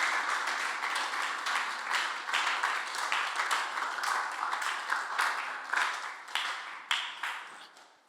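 A church congregation claps steadily together during a sermon at a youth and pre-teen camp, a dense, continuous wash of hand claps that holds for several seconds and then tapers off near the end.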